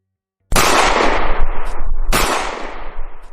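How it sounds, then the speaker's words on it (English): Gunfire effect in two loud sudden bursts of bullets spraying across an athletic club, each a dense rattling blast that trails off, with no voices. "bullets sprayed across the athletic club"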